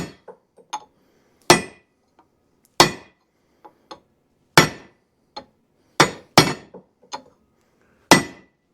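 A bearing is hammered into place on a brush mower clutch: about a dozen sharp metallic strikes at irregular intervals, some ringing with a bright clink, the heavier blows loud and close, and no talk between them.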